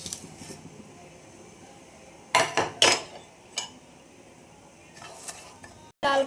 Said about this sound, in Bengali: এবার এটাকে আমি শুকনো খোলায় ভেজে নেব।